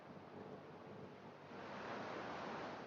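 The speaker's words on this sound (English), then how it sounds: "You watch the ocean from the rocky shore." Ocean waves wash against a rocky shore in the video game Eldrum: Untold, a steady soft roar of surf that grows slightly fuller toward the end, faint and distant with no voices.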